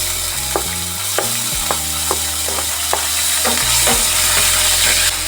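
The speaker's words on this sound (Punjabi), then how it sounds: "ਲਸਣ ਤੇ ਅਦਰਕ ਨੂੰ ਅਸੀਂ ਭੁੰਨ ਲਵਾਂਗੇ" Finely chopped garlic and ginger fry in hot oil with spices, a steady loud sizzle close by, broken by a few light clicks of a spoon stirring, with no talk.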